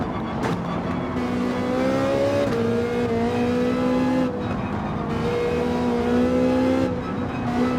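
A Manufacturer's Cup race car engine in a racing video game roars steadily at high revs, pitch climbing and dropping with gear shifts, loud and continuous with no voices.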